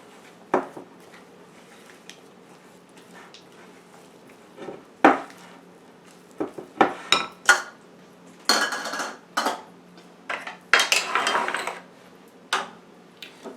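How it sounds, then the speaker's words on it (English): Walnuts folded into muffin batter in a bowl, heard as scattered knocks and scrapes of a utensil against the bowl, sometimes in quick clusters, close up and quiet between strokes. "Go ahead and dump the walnuts in there. And just fold it in."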